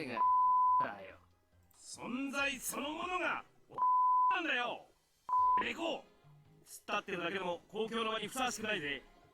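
A steady electronic censor bleep from the video game Alice no Kuni cuts in three times at a fixed tone, each lasting under a second, alternating with expressive character voices talking between the beeps.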